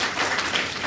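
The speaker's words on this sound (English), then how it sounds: "Please clap for them" Audience claps for the Regional Advisory Board at a youth development gathering, a short, fairly faint patter of applause.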